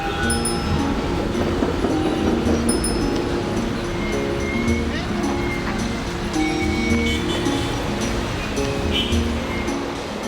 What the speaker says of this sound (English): Why a slow train to Wuchao?